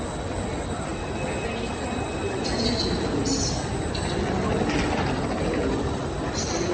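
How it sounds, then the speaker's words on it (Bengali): Local commuter train pulling into a busy station in Italy, a steady broadband rumble of the train filling the platform with faint high whine and brief squeals layered on top, continuous throughout. "এখানকার লোকাল ট্রেন ঢুকেছে।"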